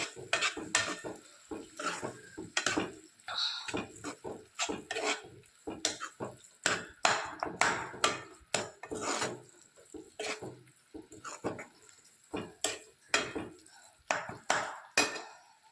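A spoon scrapes and clanks against a pan in a steady, repeating rhythm while stirring chocolate bottle gourd halwa with mawa, cashews and almonds. The stirring is close and continuous.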